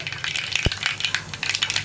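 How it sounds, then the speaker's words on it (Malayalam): Dense crackling and sharp pops of mustard seeds popping in hot oil, with one loud thump early on. "കടുകൊന്ന് പൊട്ടി തുടങ്ങട്ടെ"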